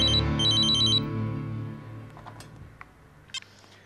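An electronic telephone rings in short trilled bursts, two quick ring cycles at the start, then fades into quiet room sounds with a few faint clicks and small knocks.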